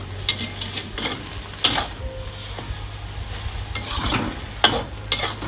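Eggs stir-fried with sesbania flowers in a pan, a steady close sizzle broken by repeated sharp scrapes and knocks of a spatula at an irregular rhythm.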